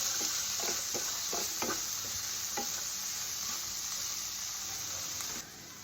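Tomatoes frying for pav bhaji give a steady close sizzle, with several light scrapes of stirring early on, before the hiss drops slightly near the end.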